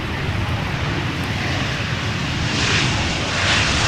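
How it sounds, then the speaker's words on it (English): A KLM Embraer 175 arriving from Düsseldorf at Amsterdam Schiphol makes a steady, rumbling jet roar that swells slightly toward the end as it nears, heard alone. "It is an airplane arriving from Düsseldorf. KLM flight 1800. Embraer 175."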